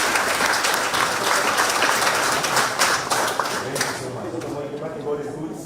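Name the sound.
audience applause for an MP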